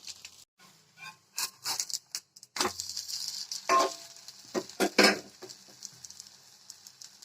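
Ragi sweet dosa cooking in ghee on a hot pan, with an intermittent close sizzle that flares in short bursts between quieter gaps, alongside a few light scraping and stirring touches.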